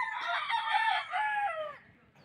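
A gamefowl rooster in a game yard crows loud and close in one long drawn-out call, which then fades into quiet.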